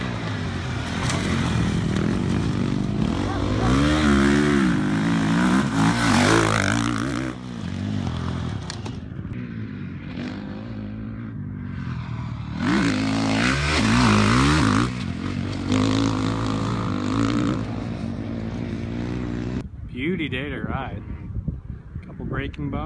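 Motocross motorcycle riding a supercross track, its engine revving and surging loudly and close throughout, rising and falling with throttle over bumps and jumps, with some clatter and wind.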